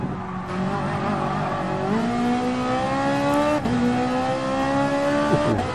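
A race car in Gran Turismo Sport brakes and downshifts, engine pitch stepping and sliding between gears with sharp tire squeal, loud and close, no talk over it.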